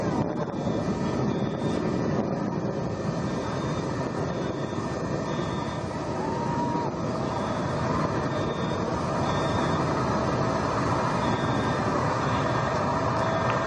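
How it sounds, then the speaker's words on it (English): A Blue Origin rocket engine roars steadily during ascent, returning to full throttle after passing maximum dynamic pressure and going supersonic; a dense, continuous far-off rumble with a faint recurring tone, no talking. "Engine back up to full throttle"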